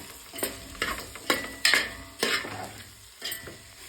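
A frying mixture of green chillies is stirred in a pan, giving rhythmic scraping strokes about every half second over a soft, steady sizzle, close and fairly loud with no talk.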